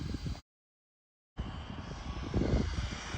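A Jiusi PT14R RC car running on a 3S LiPo at full throttle gives a distant, buzzing motor whine that cuts out briefly, then returns and swells slightly as the car passes.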